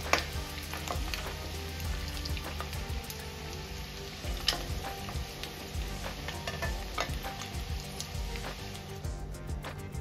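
Boiled eggs frying in hot oil in a pan for egg curry, giving a steady close sizzle with scattered pops and spatters throughout, no voices.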